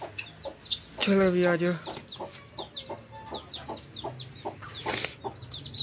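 Domestic chickens cluck in a rapid, irregular series of short calls close by, with one louder drawn-out squawk; someone speaks briefly over them.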